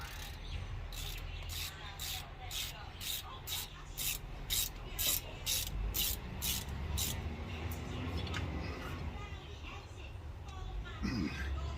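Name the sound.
torquing down Toyota Previa front brake bolts with ratchet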